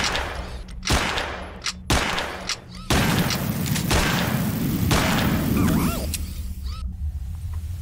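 Gunfire from a dog companion in the zombie shooter Zompiercer, a loud burst of rapid shots and heavy thuds repeating over several seconds with no talk.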